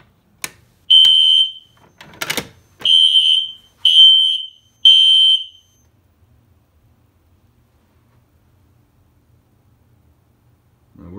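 A Notifier fire alarm system sounds during a monitor module test, giving four loud, shrill electronic beeps spaced about a second apart after a sharp click, then silence.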